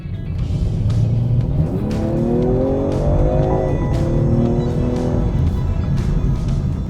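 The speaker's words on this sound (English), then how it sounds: "The note that you get from the engine is just so fantastic." A 2021 BMW M340i's engine growls steadily while driving, rising in pitch through a smooth acceleration, then dipping and climbing again with a constant road rumble underneath and no talking.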